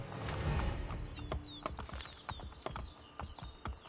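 Horse hooves clip-clopping at a gallop in Assassin's Creed Brotherhood, as a guard escorts Caterina fleeing Castel Sant'Angelo: rapid, close hoofbeats with game ambience and a few brief tonal effects, no talk.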